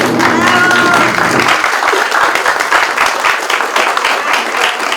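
An audience at a student research book presentation applauds the author, loud dense clapping that carries on steadily over the whole stretch, with a voice briefly heard at the start.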